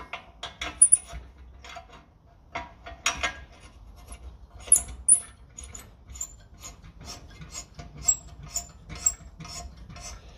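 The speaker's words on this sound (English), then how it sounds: "So this is just the tap, just to clean the threads rather than cut them" Steel tap run through bolt threads on a 1957 Ferguson FE35 TVO tractor to clean them, giving close, quiet irregular ratcheting scrapes and metallic clicks in short bursts, with no talk.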